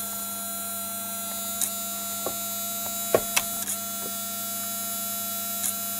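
Gear motor for the CD eject mechanism of a Bose Lifestyle Music Centre that is failing to eject, with a few brief clicks and knocks over a steady electrical hum, close and fairly quiet.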